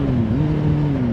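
A Kawasaki Z750S inline-four motorcycle exhaust, heard from the rider's seat with the visor cracked open, holds a steady, loud engine drone with a slight rise and dip in pitch, no talking.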